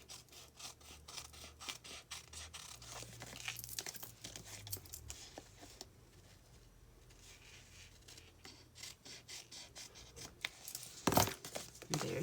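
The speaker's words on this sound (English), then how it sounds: "Just go around the envelope and cut off the extra" Scissors cut excess paper away from around an envelope, producing faint, close snipping and rustling crinkles in an uneven rhythm, with occasional louder paper handling near the end.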